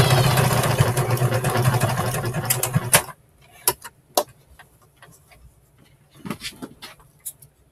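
Domestic sewing machine stitching down a fabric flap for a pocket, a steady dense whir for about three seconds that then stops, followed by scattered soft clicks and handling taps in near quiet.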